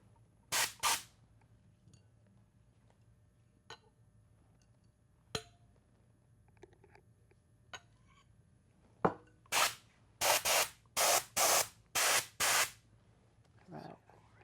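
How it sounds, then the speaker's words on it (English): An airbrush of the kind used to spray paint cars, spraying colour over the top of a chocolate mould: after quiet clicks and clinks, a run of short hissing bursts in a steady rhythm, loud and close. "Here I have a fancy airbrush. It's the same airbrush they use to spray paint cars."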